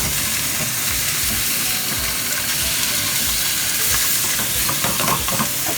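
Sea bass pan-fries in oil, giving a steady, loud sizzle and hiss that runs unbroken throughout, with a few faint scraping and stirring touches and no talking.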